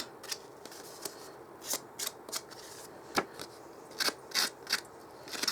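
Scissor blades scrape and rough up the edges of paper for papercraft, giving short, dry rasping strokes in uneven bursts, close and fairly quiet, with no talking.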